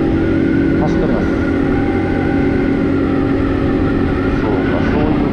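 Honda Dax motorcycle riding along National Route 275, its engine and wind noise forming a steady, loud drone throughout with people talking over it.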